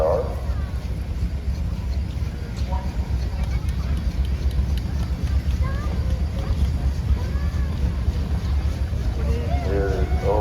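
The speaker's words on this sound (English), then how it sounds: "Next up, we have a Case steam engine rated at 65 horsepower." A 1915 Case 65-horsepower steam traction engine weighing 12 tons, rolling in a steam and threshing show parade in Mason, Michigan. It gives a steady, loud low rumble and mechanical noise, with crowd babble around it.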